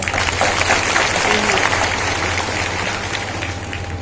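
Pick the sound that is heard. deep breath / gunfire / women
women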